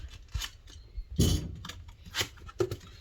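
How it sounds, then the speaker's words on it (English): A knife slices open a cardboard box of Milwaukee M12 and M18 impact driver and drill kits, a short loud tearing cut near the middle among a few lighter scrapes and taps. "Need a knife. So we'll cut that open."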